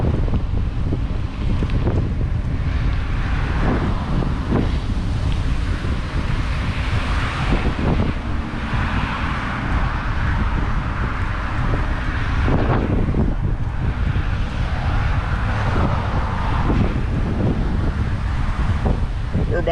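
Strong wind blowing across a bike trail in the Lower Florida Keys, roaring steadily against the microphone in loud continuous gusts with rumbling low buffeting throughout.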